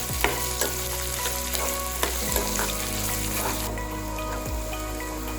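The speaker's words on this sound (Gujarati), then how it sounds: "તો બ્રાઉન કલરની ડુંગળી થાય ત્યાં સુધી આપણે શેકવાનું" Onions fry over a low flame while being stirred in a pan, making a continuous close sizzle with occasional scraping clicks.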